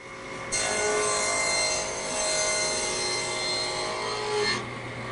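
A single power saw blade cutting a groove in plywood, a loud, steady whining rasp that starts abruptly, holds for about four seconds, then cuts off, heard up close with no talk.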